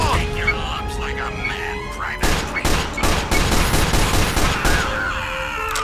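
Explosions and rapid gunfire in the game Team Fortress 2, a dense loud barrage of blasts and cracks after a quieter start, with a voice shouting in the mix.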